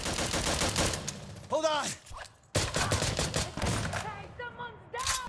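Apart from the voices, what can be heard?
EBR marksman rifle gunfire in a video game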